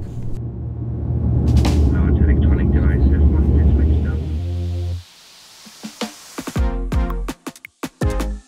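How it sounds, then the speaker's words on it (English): A Widerøe airliner lands at Tromsø in Arctic Norway, a loud, steady low engine rumble for about five seconds that drops away abruptly, followed by quieter intermittent knocks and thuds. "we were soon making our approach and landing into the northernmost city in the world"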